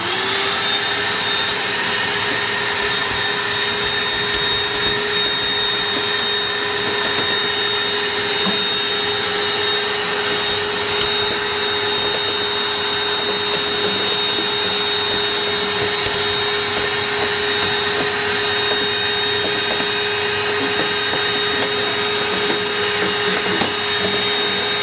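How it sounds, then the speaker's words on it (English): A Shop-Vac ash vacuum runs steadily and close by while cleaning pellet stove ashes out of the burn pot and around the temperature sensor, a continuous whine with a strong tonal hum that holds level throughout. "So I always vacuum out the pot, I vacuum out the temperature sensor here"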